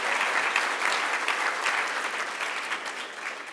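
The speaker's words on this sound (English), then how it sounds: "You can applaud for that." An audience at an award ceremony gives sustained applause, dense clapping from many hands that holds steady and tapers slightly toward the end, with no voices over it.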